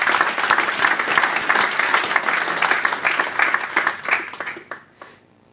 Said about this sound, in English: please give a round of applause to all of the people who are in the team as well